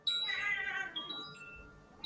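A cat meowing, a drawn-out meow in the first second followed by softer, thinner cries, fairly faint and set back from the listener.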